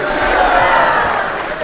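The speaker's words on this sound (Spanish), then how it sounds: "Vamos a brindarle un fuerte aplauso a Santa Cecilia." Loud crowd of a Santa Cecilia festivity in San Isidro Huayapam, Mixe, cheering and clapping, a dense, steady roar with no clear pauses.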